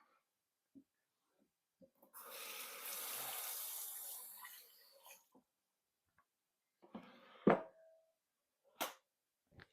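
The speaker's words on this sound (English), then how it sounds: "Let me wash my hand right quick" Tap water runs for a few seconds while hands are washed at a kitchen sink. Faint rinsing sounds follow, then sharp knocks and clatters as things are handled nearby.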